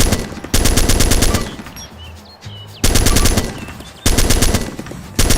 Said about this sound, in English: The full auto mode fires bullets while the trigger is pulled until the clip is empty.